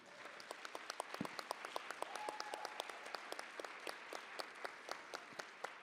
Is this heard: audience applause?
yes